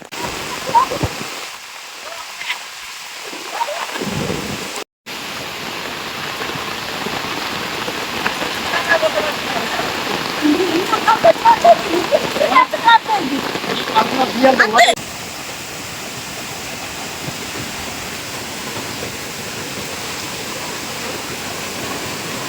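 A steady, loud roar of rushing floodwater fills the scene throughout, broad and unbroken, with brief dropouts early and some faint voices mixed in.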